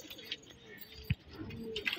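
Pigeons coo softly at a loft among pigeon fanciers' birds, a few faint low calls with one sharp thump partway through and light background noise.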